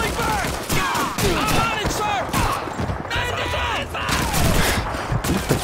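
Dense, continuous Call of Duty 2 gunfire with overlapping shots and explosions fills the battlefield, while a voice talks excitedly over the chaos.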